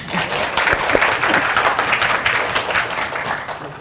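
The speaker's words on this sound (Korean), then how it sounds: "박수로 맞춰주시면 감사하겠습니다." A crowd applauds steadily, dense clapping filling the whole stretch at an even, fairly loud level.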